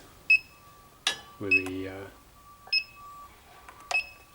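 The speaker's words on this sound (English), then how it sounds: "It's a combustible gas leak detector." An Inficon combustible gas leak detector, used for propane, gives short high beeps in scattered pairs and singles, with someone talking briefly in the middle.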